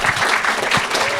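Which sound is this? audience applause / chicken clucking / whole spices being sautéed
audience applause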